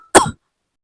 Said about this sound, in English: instead he started coughing